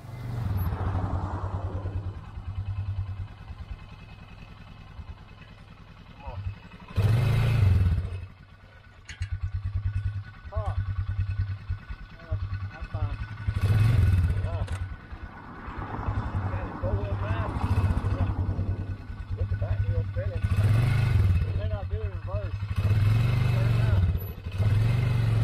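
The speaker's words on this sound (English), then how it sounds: "you heard my four-wheeler sound like it was struggling right there." A four-wheeler engine drones and labours under load while pulling a stuck Exmark Lazer Z mower free, loud and close, with repeated surges and revs and someone talking intermittently over it.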